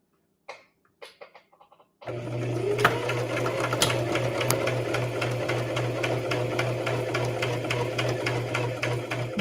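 Sewing machine running in one steady, continuous stitching burst while sewing a keychain wallet, preceded by a few short clicks and taps before the motor starts; close and fairly loud, no talking.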